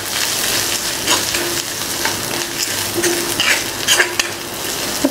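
Curry leaves sizzle and crackle steadily in hot oil for a thick Kerala-style coconut milk chickpea curry, with a spoon stirring and scraping the pan now and then; no talking.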